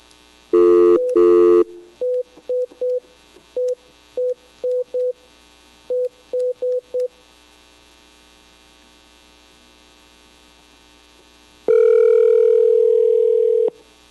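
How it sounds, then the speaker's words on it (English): Telephone line: a few short loud beeps, then a run of brief dial tones in an irregular rhythm, a long quiet gap, and finally a steady loud dial tone, with no speech. "Remember, you must now dial."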